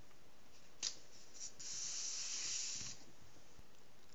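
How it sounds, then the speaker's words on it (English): An aerosol can of spray adhesive hisses in one steady spray burst of about a second, close by, after a couple of faint clicks, with quiet surroundings. "Spray adhesive will hold this template to the hardboard."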